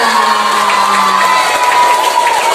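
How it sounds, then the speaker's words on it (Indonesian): An audience of schoolchildren at a police outreach session claps and cheers loudly at close range, a dense burst of shouting and applause. "Tepuk tangannya mana?"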